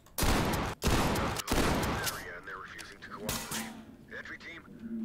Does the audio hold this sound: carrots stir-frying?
no